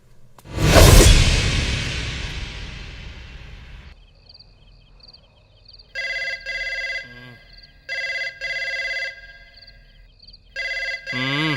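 Telephone bell ringing in a Bhojpuri film scene, sounding in three loud, evenly spaced bursts after a long whooshing swell, with a short electronic warble between rings.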